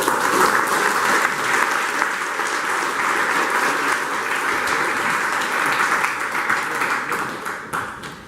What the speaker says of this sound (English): let me get a round of applause